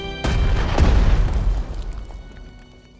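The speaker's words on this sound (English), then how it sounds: "Shells hit for full effect." Artillery shells from a Strategic Mind: Blitzkrieg battle in Poland burst in two heavy booms close together, the second bigger, then a long rumbling decay that fades away, with no voices.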